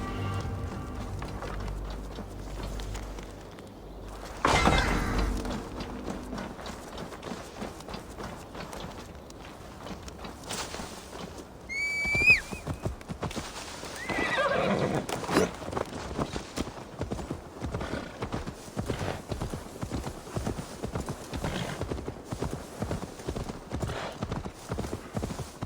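Horse hooves clip-clop at a steady walking rhythm through a game scene in Assassin's Creed Valhalla, with a brief whinny partway through, set against game music and ambience.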